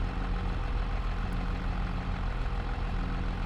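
A farm tractor engine runs at a steady, continuous drone, rough and low, with no talking over it.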